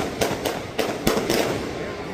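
Rapid fireworks crackle and pop in quick succession at a Ramayan fair Ravan burning, a dense string of sharp bursts over a noisy background.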